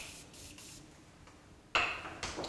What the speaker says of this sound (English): I'm gonna wet our brush a little bit with a little bit of setting spray.